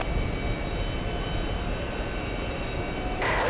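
A Delta heavy jet roars on takeoff at JFK, a steady, loud, broadband engine rumble filling the air, rising slightly at the end, with no voices.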